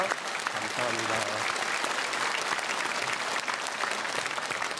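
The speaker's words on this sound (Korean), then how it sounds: "박수로 축복하겠습니다." A church congregation at a Sunday service in Korea applauds the choir, a steady wash of many hands clapping, moderately quiet, with a brief voice or tone heard early under the clapping.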